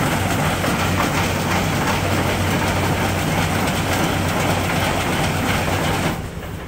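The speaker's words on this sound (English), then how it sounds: "it's just an auger that pulls the grain out of that mixer" A grain auger pulls feed out of a mixer on a sheep farm, a loud continuous grinding rumble with a steady mechanical drone that holds for about six seconds before easing slightly.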